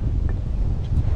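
Strong wind gusting across a campsite, a loud low rumbling buffet against the microphone that lasts the whole brief moment, with no voices.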